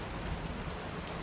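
Steady rain falls on a surface in an audio drama, a dense even hiss of raindrops with no voices, constant and close for the whole moment.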